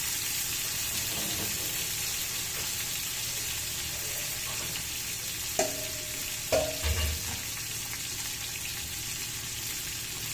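Several pieces of fish fry together in a pan with a soft, steady sizzle that stays fairly quiet, broken by a couple of brief clanks and knocks of cookware partway through.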